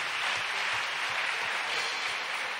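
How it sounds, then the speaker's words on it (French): A church congregation applauding in worship, a dense steady clatter of many hands clapping at moderate distance, continuous for the whole stretch. "On acclame le Seigneur."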